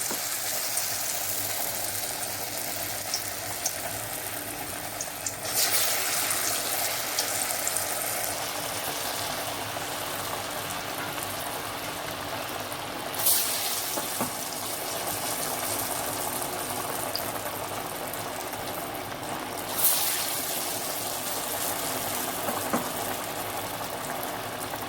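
Banana flower vada, lentil fritters pressed in the palm and dropped into hot oil, frying with a steady hiss and bubbling, plus a few brief louder splashes as more are added.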